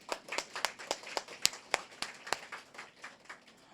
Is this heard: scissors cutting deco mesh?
no